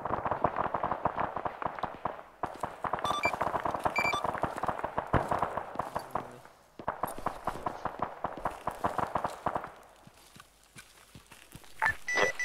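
Rapid bursts of gunfire and explosions from an ArmA 3 military simulation battle, dense cracking shots in long volleys with brief gaps, close and loud throughout.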